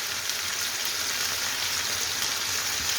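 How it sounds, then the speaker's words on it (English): Ginger and garlic paste sizzles and bubbles steadily in a hot pan while a lamb and spinach curry is being cooked. The frying hiss is dense, continuous and close, with no voices. "So you can hear that bubbling away."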